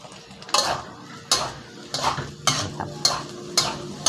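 Egg-coated rice is stir-fried in a wok for fried rice with nham, and a spatula scrapes and knocks against the pan in repeated sharp strokes, about one every half second, close up over a low sizzle.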